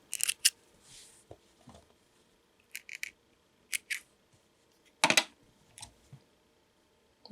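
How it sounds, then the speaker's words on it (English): Scissors snip sewing threads after topstitching, a few short crisp clicks spaced apart, close and fairly quiet, with no talking over them. "Snip the threads."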